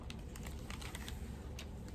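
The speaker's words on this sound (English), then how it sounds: "So these are a little pair of gold scissors. Can you hear how sharp they are?" A small pair of gold scissors snipping: a quick run of sharp, light metallic clicks at an uneven rhythm, close and fairly quiet, with no talking.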